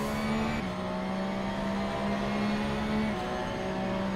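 Onboard engine note of the Arco Racing Porsche race car at Imola in a racing simulator, a loud sustained high-revving drone with brief pitch drops at gear shifts, and no talking.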